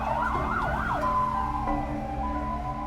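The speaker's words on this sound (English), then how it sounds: "my thoughts are quickly interrupted as a passing siren catches our attention" A siren sweeps past in a video game, its wailing tone rising and falling loudly over a steady rumble of traffic for about three seconds, with no talking.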